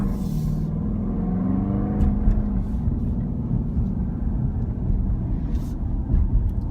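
A Dodge Durango with a cheap aftermarket exhaust driving along, a steady loud low engine drone heard from inside, the pitch rising slightly as it accelerates, with faint road rumble throughout.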